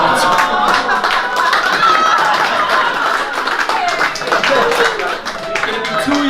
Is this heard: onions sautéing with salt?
no